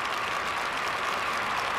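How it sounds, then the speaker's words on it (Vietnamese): Audience applause at a Vietnamese television studio show: a dense, steady wash of clapping from a crowd, continuous and fairly even throughout, with no voices over it. "Xin mời quý vị cho một tràng pháo tay nữa để chúc mừng gia đình chị."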